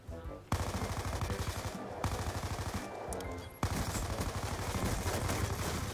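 Automatic gunfire in the video game Black Ops 2 comes in loud, rapid bursts of rattling shots, separated by short gaps, with the fire growing denser toward the end.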